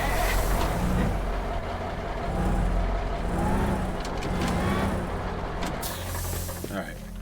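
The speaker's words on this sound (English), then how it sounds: "Billy once again using the power of his mind to control this dump truck." Dump truck engine in the video game Teardown, a steady low rumbling drone that runs throughout at moderate, constant level, with faint mechanical clunks and hisses over it.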